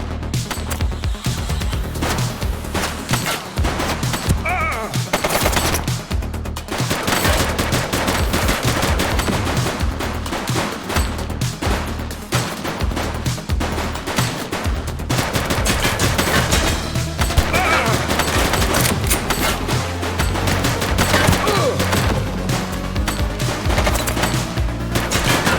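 Sustained gunfire in a shootout in The Precinct, with rapid automatic bursts and single shots cracking almost nonstop for the whole stretch, loud and dense over a low rumbling game soundscape.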